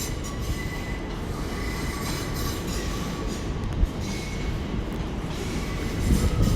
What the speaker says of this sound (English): I think we actually have another TfL rail service coming in from Reading.